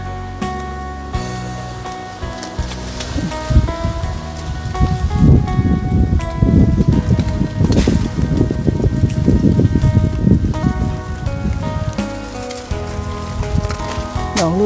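Strong, cold, dry wind rustles plants in a home flower garden, a steady rushing hiss that swells and eases across the whole stretch, with some tonal sound running beneath it.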